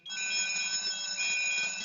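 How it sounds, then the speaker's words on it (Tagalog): An FM200 fire suppression system alarm under test sounds a loud, continuous high-pitched electronic tone that starts abruptly and holds steady without pause, close and alone. "ngayon, testing natin yung pagpa-alarm."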